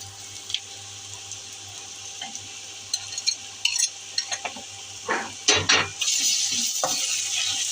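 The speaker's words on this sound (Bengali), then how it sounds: "এখন আমার পেঁয়াজ ভাজা হয়েছে, বাকি উপকরণ দিয়ে ভাজবো" Onions with spices fry in oil in a pan for a poa fish curry, a steady soft sizzle broken by several sharp scrapes and clinks of a utensil stirring, ending in a louder hiss.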